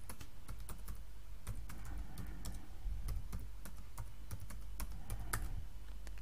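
Typing on a computer keyboard: a quick, irregular run of close, crisp key clicks over faint room noise, with no talking.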